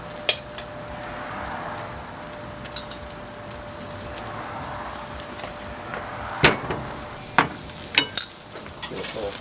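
Asparagus sizzles quietly on a rebuilt Weber Performer grill, a soft steady hiss broken by sharp metallic clicks and scrapes of tongs, clustered near the end.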